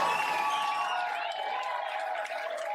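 Studio audience applauding and cheering for Whoopi Goldberg on a television talk show set, a steady dense wash of crowd noise with whoops rising over it throughout.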